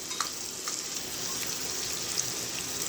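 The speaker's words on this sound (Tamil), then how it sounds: "நல்லா வதங்கணும், வெங்காயம் வதங்கட்டும்" Onions and cashews sautéing in a pan, a steady close sizzle and crackle with faint stirring ticks, continuous and even throughout with no voices.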